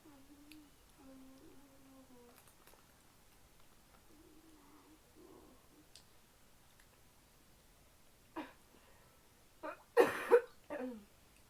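Quiet room with faint murmuring sounds, then a few short, raspy coughs and throat clearing near the end, close by.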